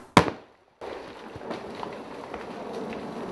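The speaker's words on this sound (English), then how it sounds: "you press the button and it goes bang" A rock-blasting charge of expanding gas fires with a single sharp, loud bang, then a short hush before a steady, dense wash of rumbling debris and noise carries on to the end.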